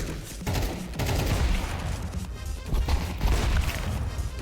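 Gunfire in Counter-Strike 2, dense rapid bursts of shots packed together and continuing without a break, loud and close in the game mix.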